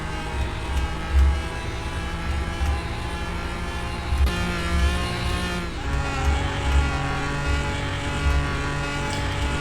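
A Lamborghini Murcielago LP670-4 in Car Mechanic Simulator 2021 revs hard toward its redline, a continuous layered engine roar rising and falling across gear changes, steady and loud with no talk.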